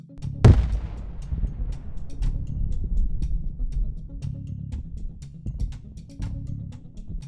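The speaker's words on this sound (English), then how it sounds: "a Russian military vehicle near the village of Leonidivka hits an anti-tank mine" An anti-tank mine explodes under a Russian military vehicle: a single sharp, heavy blast at the start, followed by a long low rumble and scattered distant pops.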